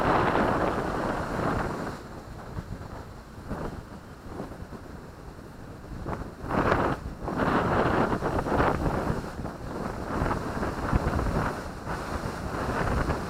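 Strong wind buffets the microphone outdoors in a continuous loud rumbling roar, with gusts swelling and dipping over the whole stretch.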